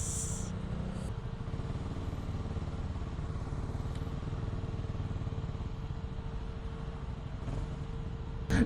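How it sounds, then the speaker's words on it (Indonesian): A custom SR-Project build motorcycle sits running while its radiator fan spins fast, making a steady, close whirring hum over the engine's even idle pulse. "itu kipasnya udah muter kenceng"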